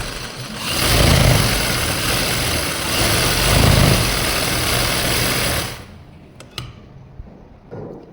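A sewing machine runs steadily while stitching fabric for an Afghani trouser, loud and close, with a dense whirring hum that swells slightly twice. It stops near the end, leaving faint handling clicks.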